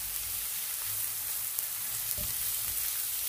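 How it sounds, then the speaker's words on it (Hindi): Chopped onions frying in oil in a pan for samosa filling, a steady close sizzle with soft stirring scrapes and no one talking. "अब हम इसमें शामिल करेंगे प्याज जो कि चॉप किए हुए हैं"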